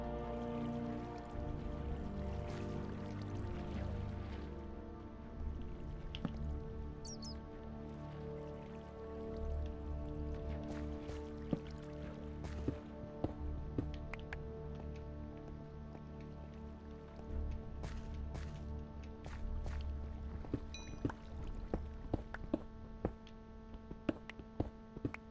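Flowing water in Minecraft on PS4, a faint steady trickling and dripping wash lasting the whole stretch, set under low sustained tonal hum with scattered small ticks.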